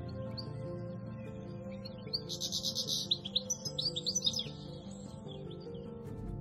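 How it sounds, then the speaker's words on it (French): Several songbirds, such as yellowhammers and goldfinches, sing in château gardens in spring, bright chirping phrases rising over a steady low background hum in the middle of the stretch. "les jardins sont habités par divers oiseaux,"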